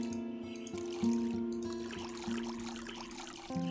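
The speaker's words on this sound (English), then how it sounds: "And then we'll water." Plants are watered in the video game Witchy Life Story, with a light trickling pour running under bright, sustained game music and chimes; no one speaks.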